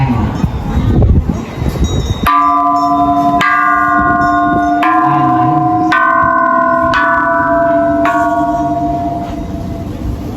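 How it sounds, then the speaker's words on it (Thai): A large temple bell at a Thai temple in Chonburi is struck repeatedly at a steady pace, each loud ringing strike blooming into a long humming resonance that overlaps the next, with wind noise underneath. "เดี๋ยวเราจะตีระฆังด้านบนแล้วกัน"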